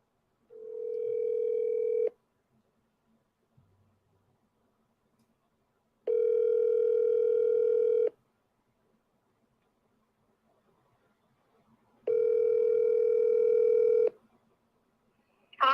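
Steady telephone dial tone sounds in three separate bursts of about two seconds each, separated by silence, during a session of wholesale real estate calls, with a brief click at the very end.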